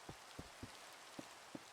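Rain falls steadily over a hushed construction scene in the game Pern Survival, with a soft constant patter broken by a handful of louder droplet taps at irregular intervals.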